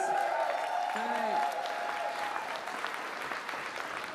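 Applause and cheering from a charity ball audience for medics, nurses and surgeons, a fairly steady wash of clapping with harmonic voice tones early on, continuing at an even level throughout.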